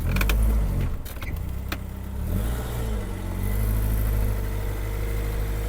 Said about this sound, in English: Proper way to close the boot.